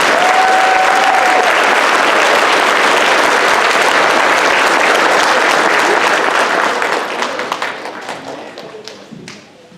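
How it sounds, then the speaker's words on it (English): Loud, dense applause from a school concert audience honoring the custodians, sustained for several seconds before thinning into scattered claps and fading out near the end. "How about a big round of applause for our custodians?"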